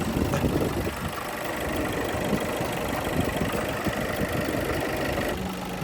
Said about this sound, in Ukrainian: Ну що, мотор робить,